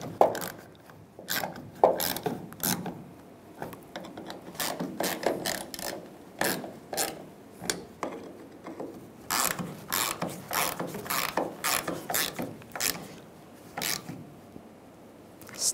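A hand ratchet tightens the fuel pump assembly bolts on a 1999-2006 Chevrolet Silverado, giving repeated sharp clicking bursts in irregular runs, close and clear with no talk.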